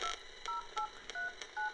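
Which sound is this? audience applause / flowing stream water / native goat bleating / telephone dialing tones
telephone dialing tones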